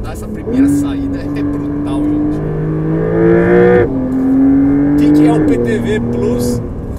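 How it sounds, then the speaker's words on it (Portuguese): Porsche 911 Carrera T of the 992 generation making a launch-start acceleration, with a loud rising engine note climbing through the revs, a brief dip at a gear change and then pulling hard again. People talk over it. "Vou fazer mais uma largada aqui que eu não resisto."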